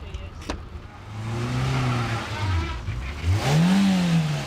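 A car moves off on a blocked motorway slip road, its engine rising and falling in a mid-pitched hum under road noise, fairly close.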